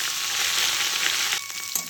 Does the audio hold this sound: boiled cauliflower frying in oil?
yes